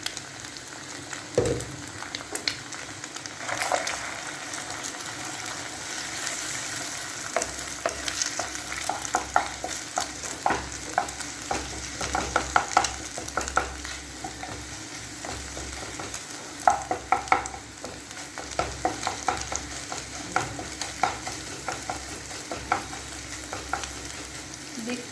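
An egg fries in a pan with a continuous close sizzle, dotted with scattered pops and crackles over about twenty-five seconds, and no voices are heard.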